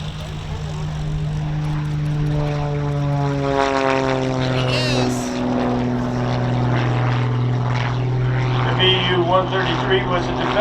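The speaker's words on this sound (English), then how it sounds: "Look at the airplane." A propeller airplane engine drones steadily at a World War II weekend airshow, its pitch sliding as the aircraft passes, loud and continuous while people talk nearby.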